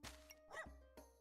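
A game puppy, the Armored Courage Puppy in Backpack Battles, gives two short electronic barks over a sustained tone, the second following after a brief pause.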